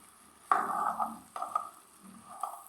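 Chopped onions frying and being stirred in a pan: close, quiet scraping strokes of a spoon against the pan come in several bursts over a soft steady sizzle, with no talking.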